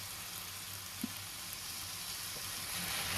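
Fish curry with tomato sizzling and frying in a pan, a steady broadband hiss of hot oil with a faint clink near the start, quiet and continuous.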